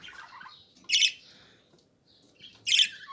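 A young pet budgerigar chirps and gives two sharp, loud squawks about two seconds apart, with softer twittering before and between them, recorded close by indoors.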